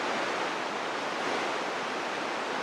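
Mesa Falls in Idaho, an undammed waterfall, roaring as a steady broadband rush of falling water, loud and continuous with no voices.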